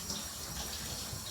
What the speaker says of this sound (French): je le remplis avec de l'eau